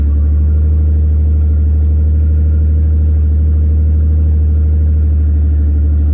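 A Dodge Charger running without a muffler idles with a loud, steady, deep rumble that holds close and unbroken throughout.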